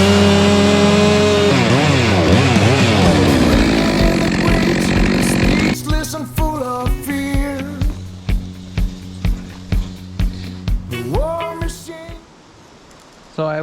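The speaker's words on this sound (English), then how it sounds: "This is my saw, what I use for milling and to cut wood. It's a Ms462c." A Stihl MS462 C chainsaw cutting a wood log for milling, loud and close: a sustained revving roar with shifting pitch, then rhythmic blips of throttle at idle before dropping low.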